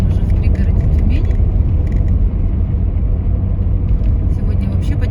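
Steady in-car road rumble as a car drives along a dry road in the suburbs near Tyumen, a continuous low engine and tyre drone with no breaks.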